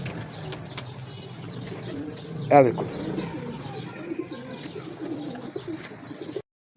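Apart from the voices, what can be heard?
pigeons cooing and flapping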